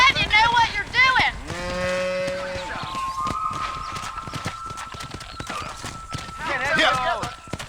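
Red Dead Redemption game audio: a cattle herd mooing loudly alongside steady clip-clopping horse hooves, with voices talking over the herd.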